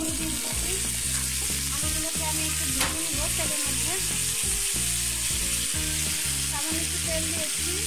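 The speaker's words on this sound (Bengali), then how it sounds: "এগুলো দিয়ে আমি মিষ্টি আলুটাকে ভেজে নিচ্ছি।" Sweet potatoes frying in oil with salt and turmeric make a close, loud, continuous sizzle and crackle, layered over a steady tonal background.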